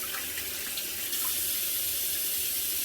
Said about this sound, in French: Je me rince les mains.